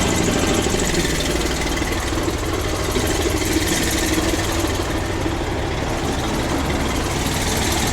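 A service truck's engine idles steadily after a cold start, a loud, close, continuous rumble with an even knocking chug and no voices over it.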